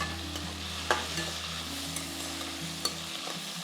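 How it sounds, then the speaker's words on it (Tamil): Onion, tomato and green chilli sautéing in a pan for poha upma, a soft steady sizzle with a few scraping stirs of a spoon, close and fairly quiet. "பச்சை மிளகாய், ஸோ நல்லா இந்த மாதிரி நல்லா வதங்கணும்"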